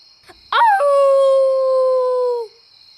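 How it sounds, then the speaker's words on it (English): A dog-like howl in a puppet story, one long sustained tone that rises sharply at the start and then holds steady for about two seconds before fading, loud and close. "Just as Chukvi pointed to the full moon, Neshoba howled with delight."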